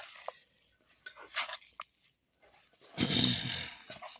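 A spoon mixes a bread snack mixture in a bowl up close, making scattered clinks and scrapes that end in a longer, denser stretch of stirring.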